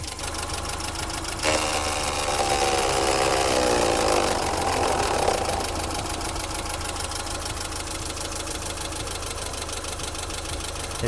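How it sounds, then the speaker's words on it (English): A BMW E30 idling with its radiator cooling fan running, a steady droning whir over the engine's mid-pitched rumble; the fan rises noticeably louder after a second or so, then settles into a constant hum throughout. "see if it overheats, and then see if that fan kicks in"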